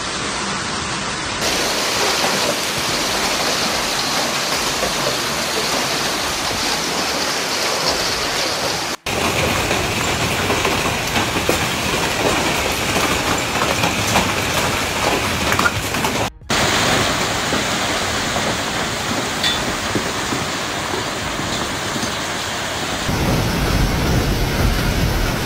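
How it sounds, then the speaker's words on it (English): Steady, dense roar of heavy rain and hail in a severe Texas thunderstorm, continuous broadband wash with a couple of abrupt cuts, no voices. "strong storms bring destructive hail and cause a lot of damage"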